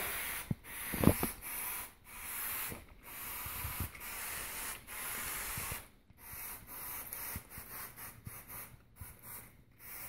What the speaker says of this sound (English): So let's spray it down.